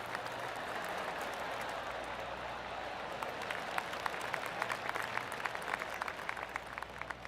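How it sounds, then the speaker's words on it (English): A golf crowd in the video game PGA TOUR 2K25 gives polite applause, scattered claps thickening into a steady patter over a soft ambient bed, moderately distant and fairly quiet. "Oh, golf clap."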